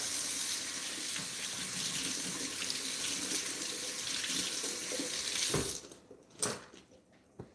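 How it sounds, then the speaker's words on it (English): Hands rinsed under a running kitchen tap during baking, a loud steady gush of water for several seconds that then cuts off, followed by a couple of soft clunks and drips. "Just washing real quick."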